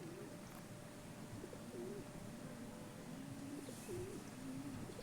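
Pigeons come to peck at scattered grain, cooing in a steady, repeated low rhythm against constant outdoor background noise, with no speech.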